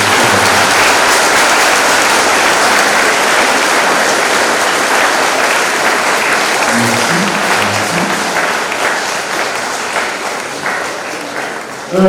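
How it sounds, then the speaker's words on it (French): Congregation at a Catholic Mass for the Solemnity of the Immaculate Conception claps loudly for a teacher, a sustained, dense wash of hands that fades slightly toward the end. "Je vous demande d'applaudir le professeur."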